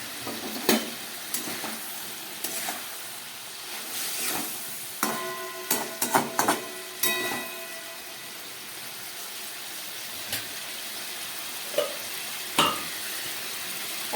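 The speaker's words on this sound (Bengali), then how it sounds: "এইবার এই ভেজে রাখা মাছগুলো আমি এর মধ্যে দিয়ে দিচ্ছি" Small fried puti fish tipped into a sizzling pan and stirred, a constant frying hiss broken by scattered clunks and scrapes of the spoon, close and without voices.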